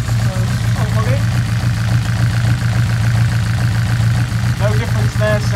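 A Honda Integra DC5 Type R with a misfire idles lumpily, a steady low engine drone with an uneven beat running throughout at close range, while people talk over it.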